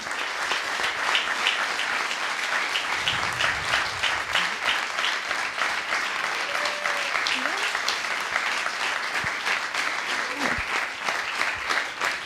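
Dense, sustained audience applause fills a fashion show hall for over twelve seconds, steady and loud with a few whoops and voices rising through it.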